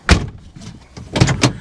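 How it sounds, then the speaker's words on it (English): A Subaru car door shuts with a solid thud, followed by a couple more clunks of the latch and handle, close by with no talking. "You don't have any problem shutting the door."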